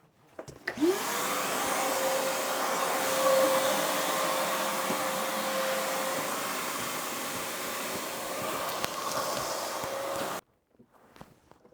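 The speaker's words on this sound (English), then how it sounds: "Let's vacuum quick." A vacuum cleaner runs steadily at close range for about ten seconds, a loud continuous drone with a faint tonal whine, used on carpet and seats in a garage, then cuts off abruptly.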